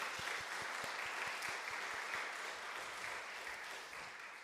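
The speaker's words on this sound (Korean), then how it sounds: "다시 한번 수고해 주신 분들 위해서 감사하다고 박수 한번 하겠습니다." Congregation at a Sunday worship service in a New York church claps together in thanks, a faint, distant patter of many hands sustained for several seconds.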